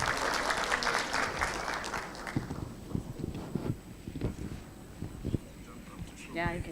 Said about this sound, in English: Can we clap our hands for Professor Speber, please?